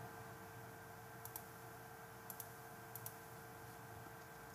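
A computer mouse clicks while tracing in Silhouette Studio, heard as three quick double clicks spread apart over a faint steady electrical hum in a quiet room.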